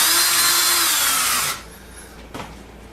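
A power drill whirs loudly and steadily while driving short screws into an all-in-one unit, then cuts off abruptly and is followed by a quiet pause and a brief soft clunk.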